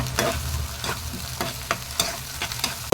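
Ginger-garlic paste sautés with onions for mutton liver fry, a close crackling sizzle punctuated by quick repeated scrapes of a spoon stirring the pan, with no voices.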